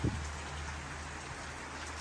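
Steady rain falling outdoors in the mountains, a soft continuous hiss of drops at moderate level, with a brief bump at the very start and no talking.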